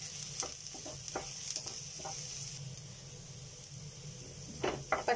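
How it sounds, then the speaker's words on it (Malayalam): Green chillies frying with onions in a pan, stirred with a few scraping strokes over a constant soft sizzle, close but gentle, with a cluster of quicker scrapes near the end. "അതിലേക്ക് ഗ്രീൻ ചില്ലി ഇട്ട് കൊടുക്കുന്നു. ഗ്രീൻ ചില്ലി ഇട്ട് ഒന്ന് ഇളക്കി സോർട്ട് ആക്കിയിട്ട്"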